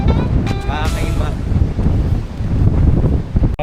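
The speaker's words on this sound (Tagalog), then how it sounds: "Windy day." Strong wind roars and buffets against the microphone in low rumbling gusts, with brief voice-like tones near the start.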